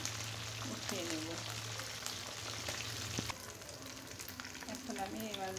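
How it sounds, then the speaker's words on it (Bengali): Fish pieces fry in a pan until reddish-brown, a continuous close sizzle and crackle with occasional stirring, while faint voices can be heard in the background. "এবার এগুলো সুন্দর করে লাল লাল করে ভেজে নিব।"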